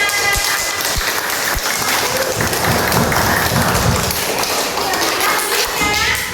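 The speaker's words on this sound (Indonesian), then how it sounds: "Tepuk tangan." Classroom students clap together during a fiqh lesson on congregational prayer, loud close claps mixed with thumps and taps and a few sharp single knocks, with voices talking through the clapping.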